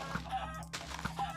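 Chickens clucking in Minecraft, with short game clucks repeating at close range with no talk.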